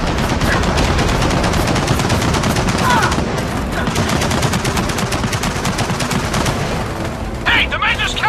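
Sustained machine gun fire in the video game Gears of War 4, with loud rapid bursts running nearly continuously alongside game voices and combat effects.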